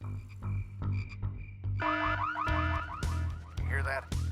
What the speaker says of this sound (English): Set this alarm off.